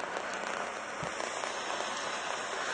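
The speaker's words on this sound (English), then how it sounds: "What I've been seeing out here is really just light rain" Light rain falls outside during a storm, a steady soft hiss of drops spread evenly and faintly across the scene, with no voices.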